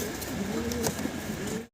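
Roman gal pigeons of Andalusian origin with silver coloring coo at a pigeon seller's, giving soft, low, repeated burbling calls close by over faint background noise.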